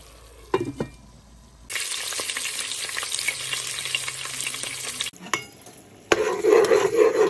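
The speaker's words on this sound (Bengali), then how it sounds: "তো এখন আমি শাক আর সবজিগুলো দিয়ে দিলাম, তো এগুলোকে ভালো করে নেড়ে চেড়ে ঢেকে দেব।" Mixed greens and vegetables for a Bengali labra stirred in a pan over dry red chillies and bay leaves, frying with steady sizzling and clattering stirring strokes, close and fairly loud, with a sharper burst of sizzle near the end.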